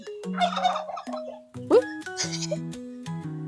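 Bursts of bird calls and a quick turkey gobbling warble break through nearby chatter at a family farm cafe, with several short harmonic clucks spaced between pauses.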